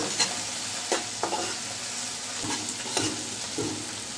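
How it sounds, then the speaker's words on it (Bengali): Shrimp fries in a pan with onion and garlic, a continuous hissing sizzle broken by repeated scraping knocks as a spatula stirs, loud and near with no voices. "চিংড়ি মাছটাকে পেঁয়াজ আর রসুনের সাথে একদম ভাজা ভাজা করে নিব সেজন্য আমি এ পর্যায়ে দিয়ে দিলাম চিংড়ি মাছ"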